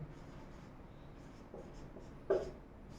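Chalk scratches briefly on a classroom board while a Hindi definition is written, a few faint strokes and one louder scrape in a quiet room.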